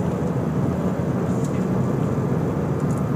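Nissan Grand Livina with the 1800cc MR18 engine accelerating in third gear, a dense continuous engine and road roar, loud and steady throughout with no voices.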